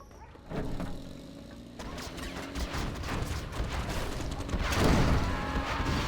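TNT blasts in a Command & Conquer Generals match, Demolition versus GLA: a sudden crashing impact followed by several seconds of rumbling debris and a second heavier boom swelling near the end.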